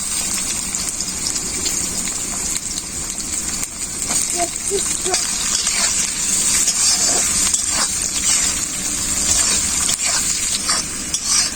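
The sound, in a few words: frying capsicum and potatoes in oil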